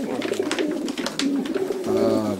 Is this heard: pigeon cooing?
yes